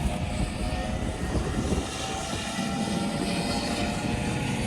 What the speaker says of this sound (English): And then it's time to board this Ocean Sentry plane.